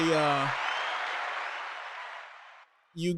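A small group applauds at an online Thanksgiving gathering, with a soft, even wash of clapping. It follows a brief voice at the start, tapers off, and then a voice returns at the end.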